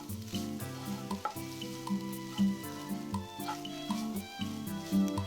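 Grated coconut frying in ghee in a pan, a steady soft sizzle throughout with faint stirring, close and alone with no talk, under a low tonal hum.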